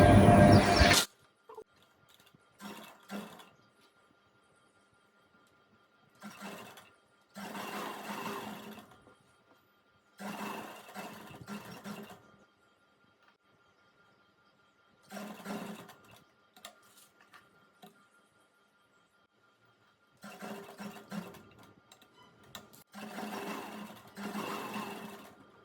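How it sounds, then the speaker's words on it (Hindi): A sewing machine stitches a strip onto a saree in about six separate bursts of rapid needle clatter, each a few seconds long, with quiet pauses between them; close and fairly loud. "यहाँ पर रखते हुए सिलाई को लगाएंगे"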